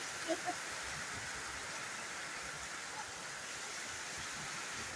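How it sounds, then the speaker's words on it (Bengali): Rain water falls in a steady, dense hiss, an even wash of sound that continues without a break, heard fairly close and alone. "এই যে পানি। বৃষ্টিতে আসলে অনেক উপভোগ করা যায়।"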